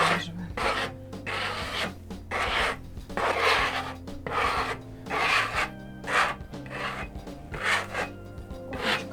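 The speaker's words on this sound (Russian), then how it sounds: "Далее берем опять шпателек и заглаживаем" A steel spatula smooths wet silk decorative plaster across a wall, a steady scraping rasp in repeated broad strokes with short pauses between passes, close and moderately loud, no talk.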